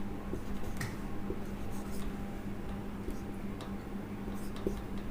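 Pen scratching across paper in soft, steady strokes close by, quiet and continuous, with faint speech in the background.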